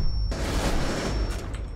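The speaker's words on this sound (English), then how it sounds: "there's a nade down here" A grenade detonates in Rainbow Six Siege with a sudden loud broadband blast that rolls on as a dense, rumbling roar for over a second, close and overwhelming, with no voices over it.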